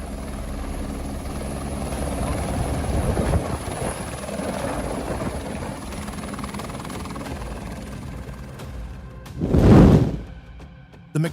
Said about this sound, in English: The Airbus helicopters H-125 arrived in response to an emergency call in the middle of the forest.